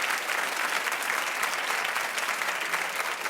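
Studio audience breaking into steady, dense applause, loud and close throughout at a daytime talk show taping, with no voices standing out above the clapping.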